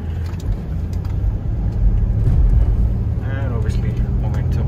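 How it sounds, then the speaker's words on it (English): An off-road vehicle's engine drones steadily as it climbs sand dunes in low manual gear, revving slightly louder midway, with people talking over the engine noise. "And we're also driving on manual before we have better control of the power."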